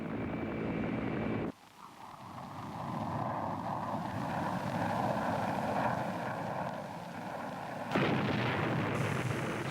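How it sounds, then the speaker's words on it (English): A heavy roar of fighter bombers and helicopter gunships and thudding fire on landing zones in the Vietnam War, broken by an abrupt cut to a lower rumbling drone, then another sharp change near the end. "Fighter bombers and helicopter gunships hammered the landing zones."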